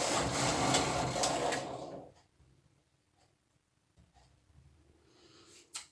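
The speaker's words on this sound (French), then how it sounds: "nous installons le fil de couleur contrastante dans la tête du chariot et nous allons tricoter un rang" A knitting machine carriage is pushed across one row with contrasting-colour yarn, making a loud whirring slide for about two seconds, then stopping; soft clicks and handling noises follow in near silence.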